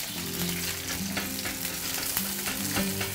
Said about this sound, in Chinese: 这时候下入这个姜片、蒜片还有干葱片，我们给它爆香一下。